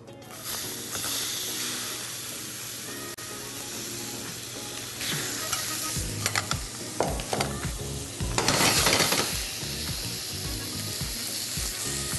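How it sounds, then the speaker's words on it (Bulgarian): Lamb sears in a hot pan with about a spoonful of olive oil, giving a loud, steady sizzle that flares into sharper crackling bursts as pieces are added, with occasional utensil clatter. "Вече хубаво ми загря тигана. Слагам го на два пъти."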